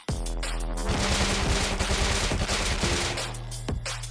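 An MP5 submachine gun in the game Rust fires one continuous loud burst of rapid shots lasting about three seconds, with no voices.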